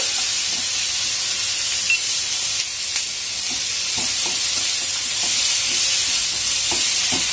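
Tomatoes and chicken pieces sizzle in a hot frying pan, a steady broad hiss with soft, irregular scraping taps as the pan is stirred.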